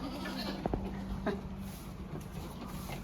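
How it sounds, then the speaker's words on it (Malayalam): A small Canadian goat kid on a farm gives a couple of short bleats amid a steady background hum. "ഒരു കനേഡിയൻ ആട്ടിൻകുട്ടി"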